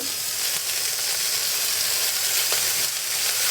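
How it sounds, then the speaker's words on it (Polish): Beef for a stroganoff goulash sears on a dry frying pan, producing a loud, even, continuous sizzle close by, with a faint tap or two and no talking. "teraz rzucić na suchą patelnię, jak na gryla można powiedzieć, i obsmażać to mięso z obu stron."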